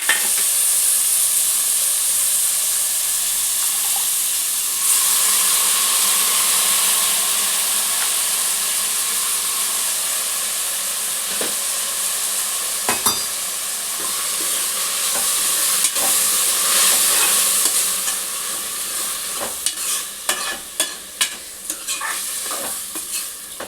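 Bagara chicken curry for a Telangana dish sizzles steadily in hot oil while being stirred, a continuous close frying hiss joined by scraping and clinking stirs that grow more frequent toward the end.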